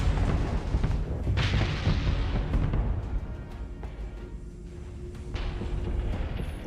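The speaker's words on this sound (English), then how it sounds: "Go, missiles, go." Missiles firing in the space combat game Starsector: repeated heavy booming launches and blasts over a dense roaring rumble, loud and close, with no voices.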